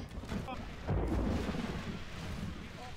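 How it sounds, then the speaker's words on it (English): Artillery barrage firing in Total War: Third Age, a deep, rumbling boom swelling to a heavy roll that lingers over continuous battle noise, with faint voices in the mix. "Lay down the barrage!"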